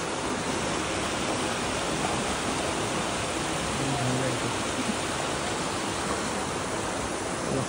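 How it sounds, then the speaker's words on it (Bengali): A tall waterfall reached after a 70-foot climb pours down, giving a dense, steady broadband roar of falling water that fills the scene evenly without pause. "বাট মেইন ঝর্ণাটা এটি"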